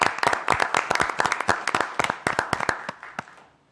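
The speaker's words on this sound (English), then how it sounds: "let's give a round of applause for the proclamation" A small audience at a city council meeting claps for a proclamation: sparse, distinct hand claps at an uneven pace, fairly close, thinning out and stopping near the end.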